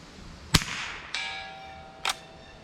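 A .22 rifle firing Norma TAC-22 ammunition cracks sharply twice, and a steel target 100 yards away answers with a distant metallic ping that rings and fades between the shots.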